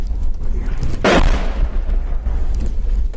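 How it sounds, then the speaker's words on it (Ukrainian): A single loud artillery blast strikes a car carrying a woman in the Bakhmut district, a sharp burst of shelling that rises out of constant rumbling noise and then trails off. "Машина, в якій їхала жінка, потрапила під обстріл."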